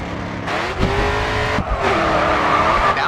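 Car tires skid and squeal through a drift in the Grid 2 racing game, with a loud engine droning and revving underneath for about three seconds.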